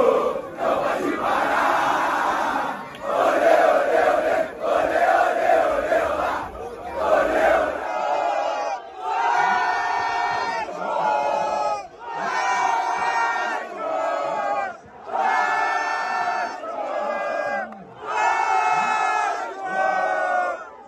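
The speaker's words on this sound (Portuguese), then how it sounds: "A torcida compareceu em massa, veio apoiar e fez uma festa linda, maravilhosa." A large crowd of Vasco da Gama football supporters chants in rhythmic, repeated phrases, loud and close, with a brief dip around eight seconds before the chanting resumes.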